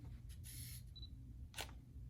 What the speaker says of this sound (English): The shutter is open right now.